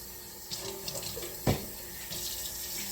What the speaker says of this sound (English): And now I'm just going to add some water.